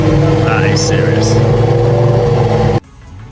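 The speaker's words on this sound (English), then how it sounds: "the Aston Martin Valkyrie hypercar in the Le Mans series. What an incredible looking machine this is." Aston Martin Valkyrie hypercar at the Goodwood Festival of Speed, its engine giving a loud sustained drone with a rising, revving note and crowd noise, then cutting off sharply near the end.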